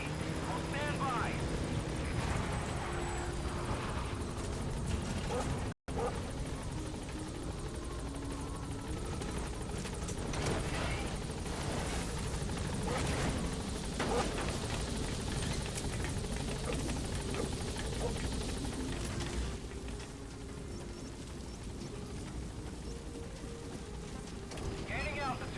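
Pequod, a game helicopter in Metal Gear Solid V, lands at a landing zone: a steady, loud rotor drone runs throughout with a brief dropout near the start, and voices are heard over it.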